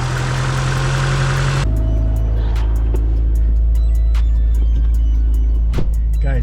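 A car engine idles steadily after being jump started with an AUTOONE jump starter, a loud constant low rumble close by in cold weather, with faint ticks and no talking.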